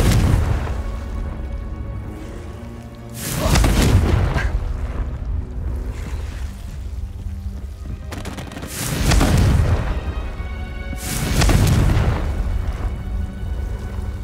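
Confringo spell explosions in the video game Hogwarts Legacy erupt as several loud booming blasts with crackling fiery bursts over continuous rumbling game action.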